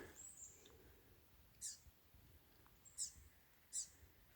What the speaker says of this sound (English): here's some birds.